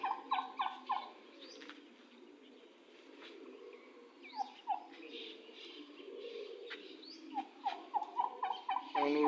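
A bird calls repeatedly in bursts of harsh, gobbling notes, moderately distant and fairly faint, over a low steady background hum with brief pauses between the call groups.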